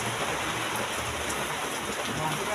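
Heavy rain pours down steadily around a street food vendor, a dense, loud, unbroken hiss with no gaps, filling the whole stretch.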